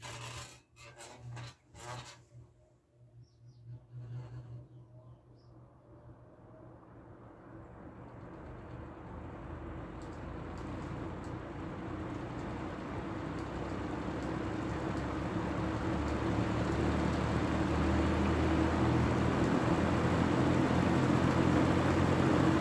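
A few clicks and rattles, then a Holmes box fan's whooshing airflow builds gradually into a steady, rushing drone on its low speed setting.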